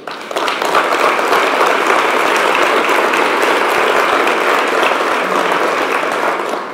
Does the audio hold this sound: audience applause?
yes